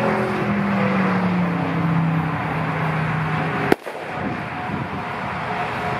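Flash powder firecracker bangers with long fuses set off outdoors for New Year's Eve, heard as a single sharp, loud nearby bang followed by a brief rumbling decay over steady background noise.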